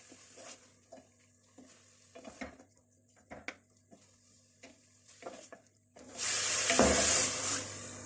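Marinated chicken tips into hot oil in a pan: first scattered clanks and scrapes of utensils, then a sudden loud, close hiss of sizzling that holds to the end.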